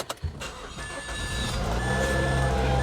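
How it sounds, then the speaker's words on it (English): A 2004–2009 Mazda 3 engine, just fitted with a new engine mount, cranks with a few quick bursts and then catches, settling into a steady, close idle. "Then I'm going to start the engine again so that you guys can see it."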